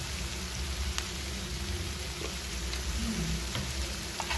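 Potol kalia sizzles steadily in a pan after a pinch of asafoetida goes in, a continuous close frying hiss with faint crackles and no talking.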